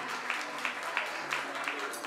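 Faint rhythmic clapping from an audience at a school graduation party welcoming Mariela Córdoba. The claps land in a steady, evenly spaced beat under a murky room background.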